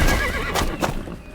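Horse being reined in sharply during a gallop, giving a loud, close whinny with rising and falling neighs, plus a hint of hooves, as a dramatized horror-story sound effect.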